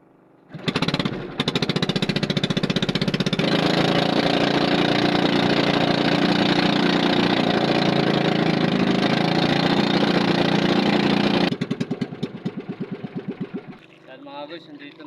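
A fishing boat engine starts up and runs loud and steady with a hard, rapid knocking chug, then drops to a slower, uneven putter before cutting out near the end.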